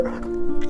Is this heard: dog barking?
yes